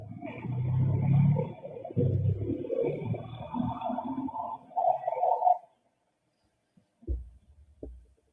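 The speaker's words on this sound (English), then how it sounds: "a car's leaving" A car leaves from outside a house at night, a muffled low rumble swelling and fading over several seconds before silence, then a couple of faint thuds follow.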